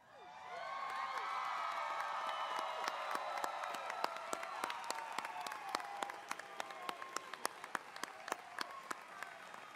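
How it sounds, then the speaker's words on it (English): Crowd applause for graduates at a 2018 university commencement ceremony, broad and sustained throughout, with scattered cheers and whoops and a few sharp close claps standing out near the end. "Let's give them another round of applause."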